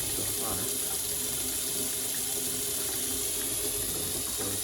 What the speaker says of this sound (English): We are going to carefully open up or turn on the faucet and reintroduce water to the system.